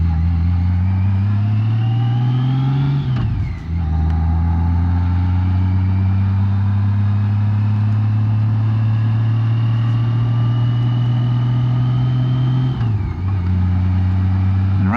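A car climbs a steep gravel mountain road in first gear, its engine droning loud and close with rising pitch, easing off twice for gear-held lulls and climbing again, with no talk.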